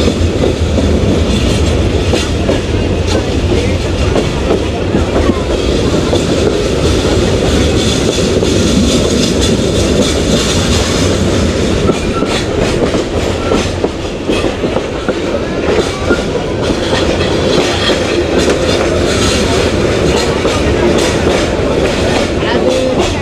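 The Paharika Express rounds a curve, giving a loud, continuous roar of wheels on rail with rattling clickety-clack, heard close from inside the train and steady throughout.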